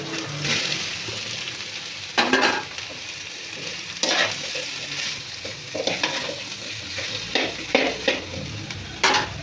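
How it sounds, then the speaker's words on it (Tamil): Onion and tapioca cassava frying in a pan, a steady soft sizzle broken by several scraping bursts of stirring, close and fairly quiet, no voices. "வெங்காயம் நல்லா ஃப்ரை ஆகிடுச்சு. இப்போ நம்ம கிழங்கு எடுத்து போட்டுக்கலாம்."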